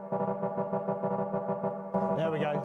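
Synthesizer chords drenched in reverb, pulsing in a steady rhythmic pattern with warm sustained tones, then a brighter swirling shift near the end; a voice briefly talks over the music.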